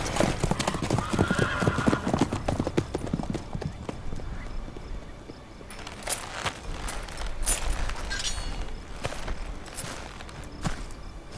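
Horse hooves galloping in The Witcher 3 video game, a steady rapid clip-clop that runs throughout at close range, with a horse whinnying once along the way and no talk over it.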